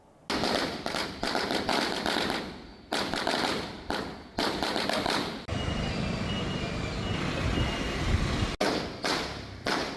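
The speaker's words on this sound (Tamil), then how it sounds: "நேற்று இரவு இளைஞர்கள் வெடிகொளுத்தி கொண்டாடியுள்ளனர்" Firecrackers set off by youths celebrating at a roundabout at night, a loud fast string of sharp bangs and thuds in bursts with brief pauses, followed by a denser crackling volley.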